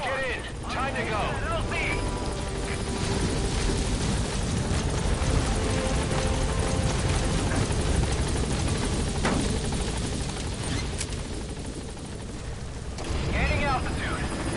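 Helicopter in the video game Metal Gear Solid V, a steady loud rotor and engine drone filling the whole stretch, with a voice talking over it.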